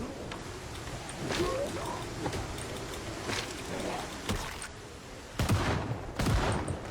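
Gunfire in the zombie survival game Project Zomboid: scattered sharp shots and bursts, moderately loud, spread through the clip over a continuous background wash.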